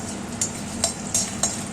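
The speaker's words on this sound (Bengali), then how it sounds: "এবার চলুন মশলাগুলো ভেজে নিই। মশলাগুলো ভেজে নেব। প্রথমে শুকনো লঙ্কাটা" Dried red chillies and spices frying in a pan at high heat, a steady low sizzle broken by four sharp spoon-against-pan scrapes and taps spaced through the stir.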